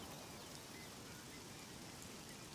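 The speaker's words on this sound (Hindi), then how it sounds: "बारिश होने से आग बुझ जाती है," Steady rain falls in a park after a fire, a dense, even hiss of drops on surfaces with no breaks, close and continuous throughout.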